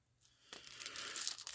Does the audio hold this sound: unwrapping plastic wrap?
yes